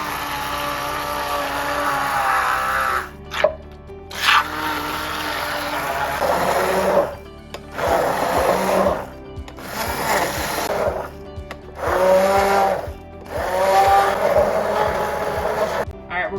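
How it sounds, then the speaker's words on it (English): An immersion blender purees vegetables for a veggie mac and cheese, its motor whirring loud and close in repeated bursts of a few seconds each, separated by brief pauses, with a low droning hum underneath. "I have this handy dandy immersion blender"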